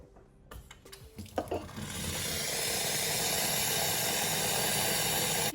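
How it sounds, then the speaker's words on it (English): Boiling water poured from a kettle into a bowl while preparing Turkish eggs in a kitchen; a few clinks and knocks lead into a steady, rushing hiss of pouring water that fills the rest of the moment. "I'm going to just get some boiling water in here."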